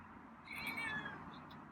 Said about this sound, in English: he hissed and then he meowed.